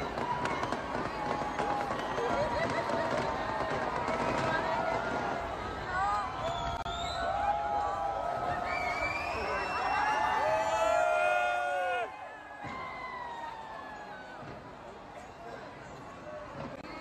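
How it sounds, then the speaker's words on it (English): Dense crackling and popping bursts of New Year fireworks from Auckland's Sky Tower with a crowd cheering and chattering throughout, the noise dropping somewhat toward the end. "A spectacular fireworks display from the Sky Tower."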